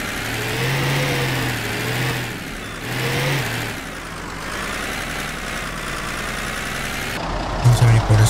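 A car engine runs in the zombie survival game Project Zomboid, a steady mid-pitched hum with a couple of rising revs, while a voice talks over it throughout.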